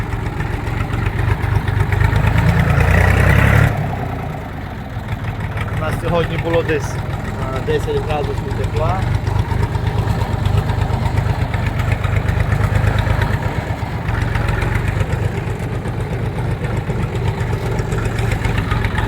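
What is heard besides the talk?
tractor engine idling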